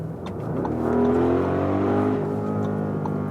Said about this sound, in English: I have some overtaking here.